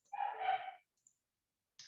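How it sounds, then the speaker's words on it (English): A young puppy gives a single short bark or yip, faint and somewhat distant, followed by quiet and a brief soft noise. "I have a new pup if you hear that noise in the background."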